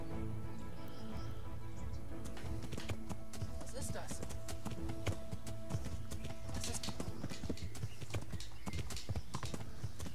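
Rhythmic hoof clip-clops from a horse in the video game Kingdom Come: Deliverance trot along steadily, with game music, voices and combat sounds layered underneath.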